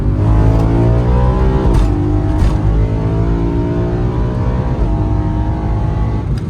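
A BMW E36 328i engine revs hard through rising pulls, the pitch climbing then dropping between gear changes, loud and close with a raspy exhaust note.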